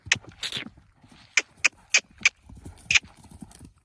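A pony's hooves thud in several sharp, separate beats as it jumps a low bar in a riding arena. The impacts are fairly close, with quiet gaps between them.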